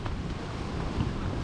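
Strong wind buffets a tent at a stormy seaside camp on the Urla coast near İzmir. It makes a steady, loud broadband roar with rumbling gusts and no speech.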